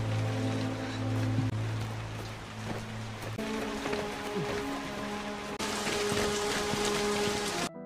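Rain falls steadily in a broad, even patter of drops on surfaces, sustained throughout with no voices.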